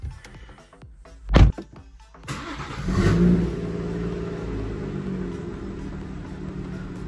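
A car in a garage, an 800bhp machine, starts up: a clunk and a sharp burst of cranking, then the engine catches and settles into a steady, moderately loud idle rumble.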